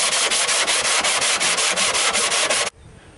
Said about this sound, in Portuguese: eu com uma lixa número 40 de ferro, eu consegui dar um acabamento prévio aqui na primeira camada de massa que a gente aplicou.